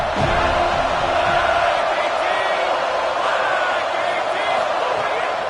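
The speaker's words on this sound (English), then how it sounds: "This crowd bringing the energy and noise early." A dense stadium crowd at a Clemson versus FSU football game roars steadily, a broad wash of voices and cheering holding at a constant loud level throughout.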